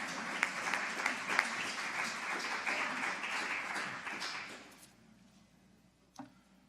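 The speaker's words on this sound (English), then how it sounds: "Yeah, you go ahead and give a clap for that." Audience at a public health keynote gives a round of clapping, a steady wash of many hands that dies away, followed by a brief quiet pause and a single faint knock.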